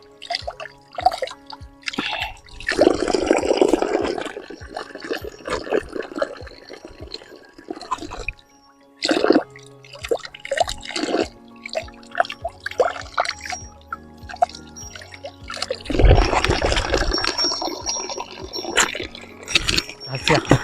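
Mangoes being rinsed in water, with dripping and splashing bursts in two clusters, near and fairly loud, while someone talks through much of it.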